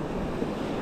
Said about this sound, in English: Now we cross the river.